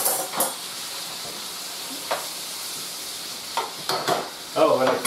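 Three cans of quartered artichokes sizzle and fry in a pan, a constant hiss broken by a few louder bursts of stirring and scraping, close up with no one talking.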